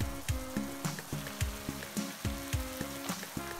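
Cooked bavette pasta sizzles as it is tossed into a pan of sauce, with steady frying crackle broken by repeated scraping and clacking stirring strokes, close and alone.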